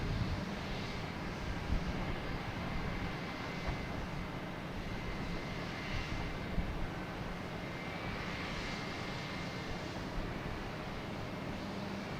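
United Airbus A220 airliner flying at Boston Logan airport, a steady broadband engine roar that swells slightly and holds at a distance, faint and continuous with no talking.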